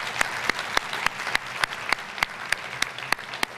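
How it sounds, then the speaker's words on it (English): An interfaith dinner audience gives a short round of applause for the presenters, the crowd's clapping punctuated by one nearby pair of hands striking sharp, evenly spaced claps about three times a second. "just a quick round of applause for all of the people who have presented so beautifully"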